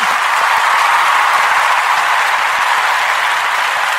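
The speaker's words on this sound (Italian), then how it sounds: "Facciamo l'applauso." Loud, steady applause from an audience at a radio station party celebrating 100,000 listeners, a dense, even wash of clapping that holds for about four seconds without letting up.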